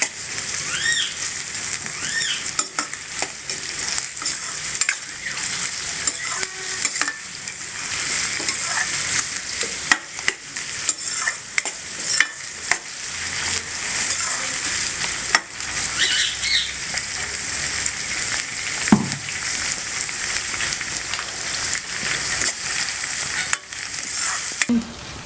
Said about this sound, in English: Let us fry the onion until they turn soft.